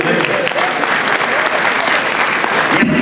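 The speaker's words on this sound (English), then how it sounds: "A big round of applause," Gala audience applauds bishops at a pro-life charity dinner, loud full clapping from a large crowd, sustained and even, with some voices and cheering mixed in.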